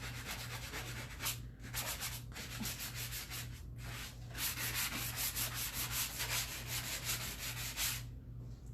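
Sandpaper rubs back and forth along the edges and corners of painted wooden furniture to distress it, a steady close scratchy rasp with a few brief pauses and a faint low hum underneath.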